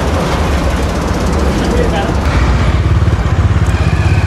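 A Bajaj Dominar 250 BS6 motorcycle runs on a test ride, its engine note loud and close with a pulsing throb that grows more pronounced toward the end.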